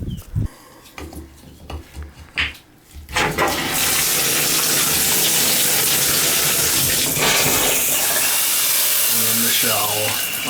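A tub shower valve spraying water out of a wall gushes into a steady, loud hiss of running water after a few seconds of clanks and handling noise, continuing without letup.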